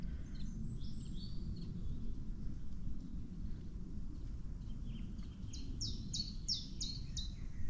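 Several songbirds, including a chiff-chaff, a robin and a blackbird, sing faintly from a distance with short repeated chirps and phrases, over a steady low rumble of wind or background noise along a countryside walking path.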